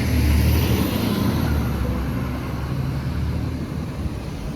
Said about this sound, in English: Oh, here's a garbage truck.